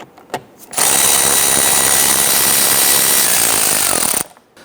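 Loud, continuous buzz of an impact or power tool running close up for about three and a half seconds, loosening and removing 8mm bolts that hold the fender liner to the bumper on a 2011-2019 Ford Explorer, with brief clicks before and after.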